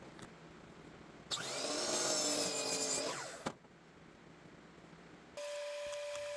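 A power saw bites into wood for a couple of seconds, loud and grinding, then a quiet gap before a motor whines again.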